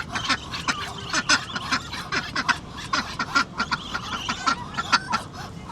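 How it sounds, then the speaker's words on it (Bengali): Ducks honk and quack repeatedly in a loud, close, overlapping flock chorus with a rapid uneven rhythm, continuous throughout. "হাঁস আমাকে পিটাইতে আসে"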